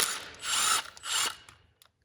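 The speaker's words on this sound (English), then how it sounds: "so we can go and remove this oiler, which is another 10mm." A 10mm ratchet turns in short bursts as it removes the timing chain oiler on a GM 2.0–2.4 four-cylinder engine, with two long clicking runs followed by a few faint clicks, close and clear.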